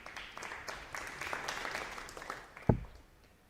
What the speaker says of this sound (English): A ripple of applause for 100